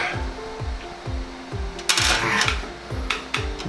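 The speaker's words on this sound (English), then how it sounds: "Now I have to screw in the power supply, so I'm going to take these and just screw." Screws are being driven into a PC power supply with a screwdriver, a repeating series of close ratcheting turns and small metallic clicks and scrapes in an even rhythm, with no talking.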